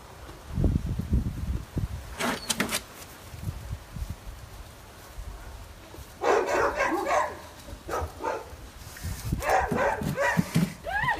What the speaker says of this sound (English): Some dog.